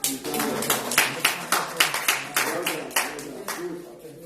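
An audience at a community health talk on hypertension claps in a strong, regular rhythm of roughly two beats per second, close and loud, with voices mixed in.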